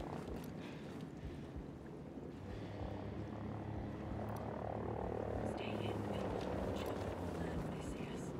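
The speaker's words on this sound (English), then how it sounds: "That incoming chopper must be transporting the CO in charge of the tests." A helicopter approaches in the video game Ghost Recon Breakpoint, its low rotor drone building gradually and growing louder toward the end, set against faint game ambience.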